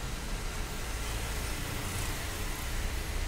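Toyota Innova engine running after a power steering repair, with the cut steering rack seal replaced to stop an oil leak: a steady, even low rumble that holds at a constant level throughout, with no voices.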